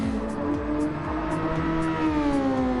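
Engines whine on a track in the racing sim Grand Prix Legends during Super Formula qualifying, several loud overlapping cars holding high revs with pitch sweeping up and down as they shift and pass.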